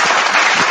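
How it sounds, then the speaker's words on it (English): Loud audience applause bursts out, a dense close-up wash of many hands clapping with no break for its brief span. "let's just give a round of applause to Will Smith"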